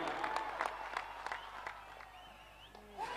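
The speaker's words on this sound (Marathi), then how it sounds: "मी थांबेन, टाळ्यांचा गजर होऊ दे या चेंडूसाठी।" Spectators at a village cricket tournament match clap and murmur as the last ball approaches with six runs needed, a dense rippling applause heard from a distance, fairly faint, with a whistle-like tone near the end.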